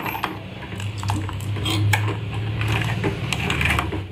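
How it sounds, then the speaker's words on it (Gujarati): A spoon scrapes and clinks steadily against a metal pot while sugar is stirred until it dissolves, a busy rhythmic scraping with light metallic taps close by. "હલાવતા રહીશું ખાંડ ઓગળે ત્યાં સુધી"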